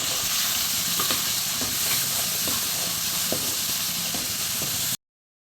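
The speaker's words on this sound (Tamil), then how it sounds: "வெங்காயம் பச்சை மிளகா நமக்கு இந்த அளவுக்கு வதங்கிடுச்சுப்பா" Onions and green chillies sauté in hot oil in a pan for a Tamil-style cauliflower egg poriyal, giving a steady loud sizzle with occasional stirring scrapes, then cutting off abruptly near the end.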